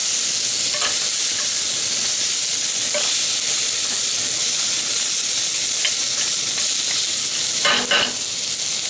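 Lamb bones and mirepoix browning over a high flame, a loud, steady sizzle and hiss filling the whole stretch, with occasional stirring scrapes and a brief clatter near the end, close up.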